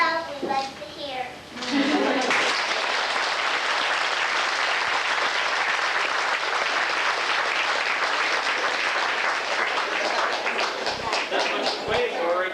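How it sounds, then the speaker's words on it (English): A Burns Night audience bursts into loud, sustained clapping and cheering after a few seconds of opening talk, the dense applause holding steady to the end with occasional shouts. "You have to clap, yes, even cheer."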